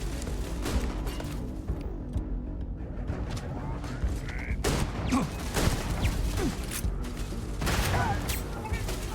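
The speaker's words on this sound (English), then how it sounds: "Did they just get exploded by their own bomb?" A bomb explodes during a firefight in the video game Starfield, the blast sitting among rapid, loud gunfire-like bursts and a constant low rumble throughout.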